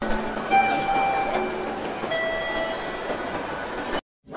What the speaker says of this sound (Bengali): এখন ট্রেন ঢুকছে দিল্লি স্টেশনে